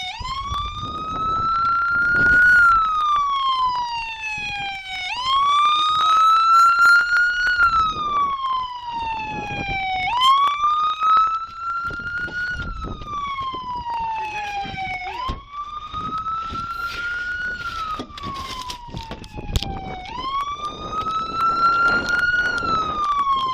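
A loud wailing police car siren sweeps up and down in long repeating cycles, close by and continuous after a high-speed chase, with faint shouting voices underneath.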